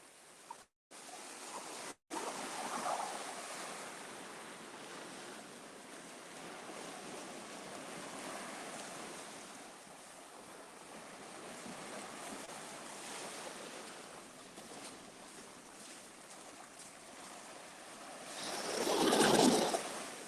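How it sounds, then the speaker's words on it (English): Sea waves wash steadily onto a shore, a continuous broad surf rush with wind noise on the microphone, a couple of brief dropouts early and a louder swell breaking near the end. "And you listen to the sound of the sea."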